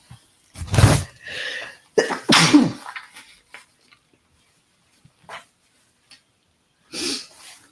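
A close, loud sneeze bursts out in two sharp, explosive blasts a second apart, followed by quiet, then one more softer breathy burst near the end.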